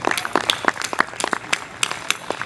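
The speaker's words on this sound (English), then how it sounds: "a big round of applause for all the amateur astronomers who volunteered their time and telescopes" Applause from an audience at an International Observe the Moon Night public event, thanking volunteer amateur astronomers who brought their telescopes; a moderate, fairly sparse patter of individual claps runs steadily for a couple of seconds at mid distance.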